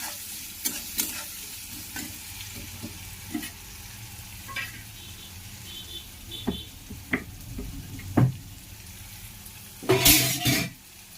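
Chicken skin fries in a pan with steady oil sizzle while utensils scrape and clink several times, ending with a louder burst of bubbling crackle near the end.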